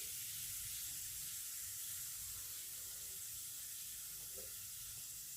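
A mixture snack fries in hot oil in a home kitchen, giving a faint, steady, even sizzling hiss with no voices over it.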